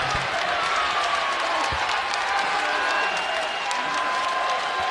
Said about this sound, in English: And the crowd on their feet applauding